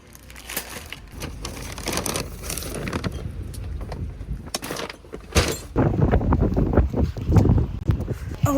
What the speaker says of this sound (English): it's so cold and windy and rainy